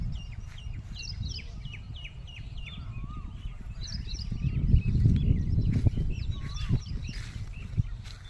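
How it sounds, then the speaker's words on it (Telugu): Morning birdsong at a farm, where koels call with repeated short, bright notes in brief bursts, moderately distant, over a low rumbling background. "కోయిల కూతలు."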